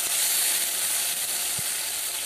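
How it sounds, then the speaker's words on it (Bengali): Bay leaf, dried chilli and cumin sizzle in hot oil for a Bengali katla fish kalia, giving a steady, even frying hiss throughout, close and without talk. "তেল গরম হয়ে হলে এর মধ্যে তেজপাতা, শুকনো লঙ্কা ও জিরে দিয়ে ভালোভাবে নেড়ে নেব।"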